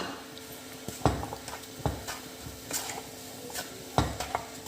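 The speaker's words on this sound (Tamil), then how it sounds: "ஸோ கட்டை பிடிக்காமல் வந்து கலரிக்கிட்டே இருங்க" A coconut semolina sweet mixture is stirred in a pan, a spoon scraping the metal with a few sharp clinks against a quiet, soft sizzling background.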